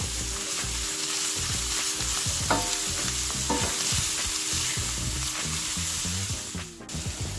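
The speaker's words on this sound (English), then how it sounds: "Stir in the tomato paste. I like to cook a little bit of that rawness off of that." Tomato paste stirred and fried in a single pan of sausage, peppers and chopped onion for a pasta dish: continuous close sizzle broken by repeated scraping spoon strokes, with no voices.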